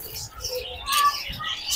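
Cockatiels chirping inside a cage at a bird house, with short bright calls that come close and clear and overlap a little, while faint background noise runs underneath.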